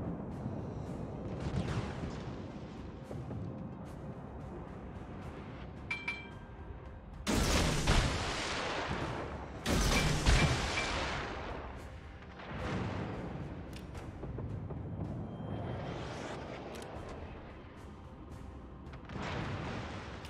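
Heavy warship gun salvos boom in a naval combat video game, with two loud broad blasts and scattered lighter shots and rumbling explosions over a steady background din.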